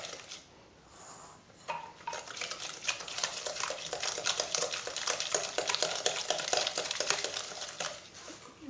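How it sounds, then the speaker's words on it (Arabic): Apple and dried fruit cake batter being stirred in a bowl, a steady run of close scraping and tapping strokes that continues without talk. "حنا كنحركو بحال هكا."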